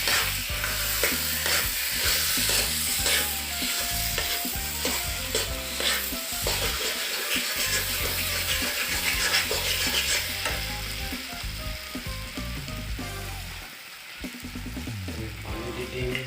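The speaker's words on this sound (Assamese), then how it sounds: "মাংসখিনি দি আমি এতিয়া ভাজিম" Broiler chicken pieces fry in a pan, a loud dense crackling sizzle that runs continuously with stirring clatter, easing slightly near the end.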